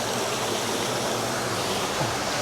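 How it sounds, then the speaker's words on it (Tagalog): Steady broadband rush of a stream flowing near a camping spot, continuous and fairly loud with no clear breaks, heard on its own. "Tubig."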